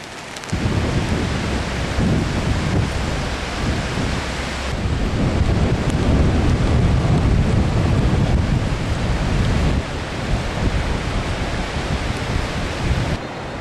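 Heavy rain pours down steadily outdoors on a wet winter day at a carp fishing spot, a loud, dense, continuous hiss and roar that fills the whole stretch with no voices.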